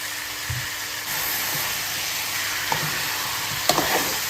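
Spices fry in a pan with a continuous close sizzle, broken by a few soft clinks and scrapes of stirring.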